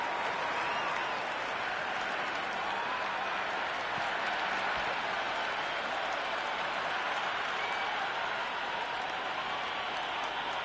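A cricket crowd applauds at the start of the match, a dense, continuous wash of clapping held at an even level throughout, with no commentary over it.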